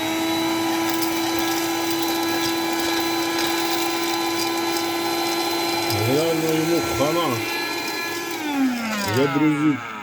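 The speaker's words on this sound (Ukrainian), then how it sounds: "пилосошу, а в нього вже з двигуна йде пиль" An Einhell TE-HV 18/06 Li cordless vacuum cleaner, seven years old with dust coming from its motor, whirs steadily with a high motor whine, its pitch shifting near the end as a voice talks over it.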